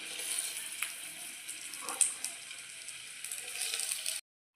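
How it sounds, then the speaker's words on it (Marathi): Chopped onion frying in oil in a home kitchen pan until brown, a soft steady hiss with a few faint clinks, ending in a sudden cutoff to silence. "कांदा मस्त ब्राऊन कलर येईपर्यंत फ्राय करून घ्यायचा आहे"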